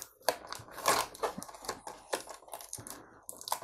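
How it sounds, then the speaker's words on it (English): Warhammer 40K miniatures being unwrapped from their packaging, close-up crinkling, tearing and crunching of plastic in irregular bursts with short quiet gaps. "get this out of the packaging and let's see what we actually get in here"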